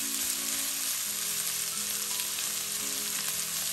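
Garlic and thin strips of small red sweet pepper sizzle and fry in a wok with oyster sauce for a Chinese celery and dried tofu stir-fry, a steady, close, even hiss with faint stirring and no talking.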